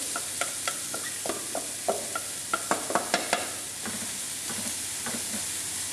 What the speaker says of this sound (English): I'm starting off with a medium heat pan. I'll put in my leeks.